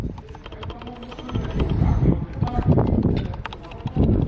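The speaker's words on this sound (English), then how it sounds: "We found this keyboard. Play the sound, play it, they can hear how it clicks." Clicking keys of a secondhand computer keyboard being pressed in a thrift store, a quick irregular patter of sharp clacks over busy store chatter and background noise.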